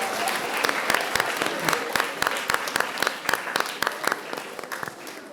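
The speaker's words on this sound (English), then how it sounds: "Both of you, please give them a big round of applause." An audience gives a moderate round of applause, with dense clapping and several sharper, distinct claps standing out, holding steady at a fairly close level for several seconds.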